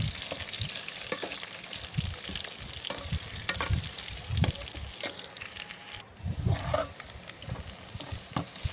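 Sliced onions and potatoes frying together in a pot for aloo biryani, with a dense, continuous sizzle and crackle broken by scraping and stirring. A brief pause comes midway, then the frying resumes.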